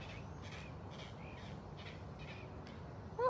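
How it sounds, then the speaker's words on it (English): A wild bird calls in a series of short, repeated crow-like caws at an outdoor big cat enclosure, moderately distant over a steady background hiss, ending with a louder close sound. "What was that bird?"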